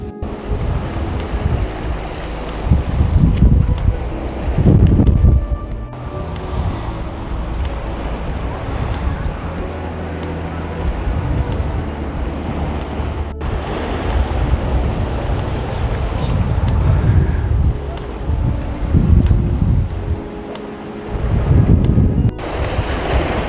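Wind gusting across a beach on Maui roars steadily into the microphone, mixed with the rush of surf, loud and continuous throughout with no voices.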